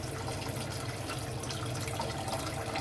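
Strained tamarind water poured into a pot while cooking Nellore-style fish curry, a steady soft splashing trickle, close and continuous, with no talk.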